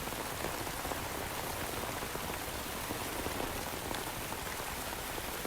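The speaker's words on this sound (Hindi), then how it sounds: "अचानक से बारिश आ गई।" Steady rain falls on a surface in a scene from a Korean drama, with a dense, continuous hiss of drops at close range and no voices.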